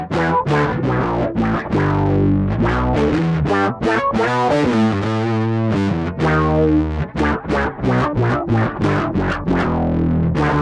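Bass guitar played with fast thumbing through the Yonac Roxsyn synth app, giving a loud, continuous distorted tone with chorus-like shimmer and clearly separated notes, no talking.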